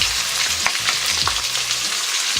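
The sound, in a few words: ginger garlic paste frying with chicken in pan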